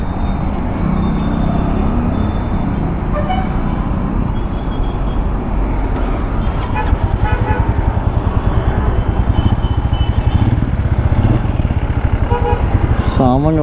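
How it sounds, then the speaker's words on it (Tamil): A newly bought Royal Enfield motorcycle engine runs right at the microphone, a loud, steady low rumble that picks up a quicker, harder thumping beat partway through, with other traffic noise around it. "வண்டி ஃபஸ்ட் டைம் ஸ்டார்ட் பண்ணிடலாம்."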